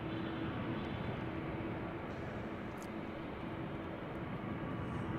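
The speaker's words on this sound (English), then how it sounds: "this A319 gets ready to take off" An Airbus A319 airliner preparing for takeoff at Salt Lake City airport gives off a steady, distant, broadband jet roar that holds evenly throughout, faint and unbroken, with no speech.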